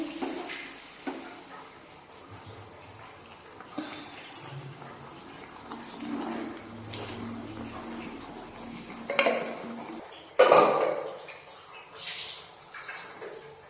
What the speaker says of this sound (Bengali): মশলার সাথে মেশানো হচ্ছে।